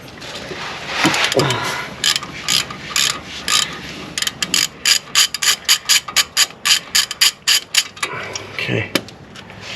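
A ratchet clicks in quick rhythmic bursts while a strut bolt is backed out on a Mercedes CLS63 AMG, the sharp pawl ticks close and steady, slowing into separate strokes near the end.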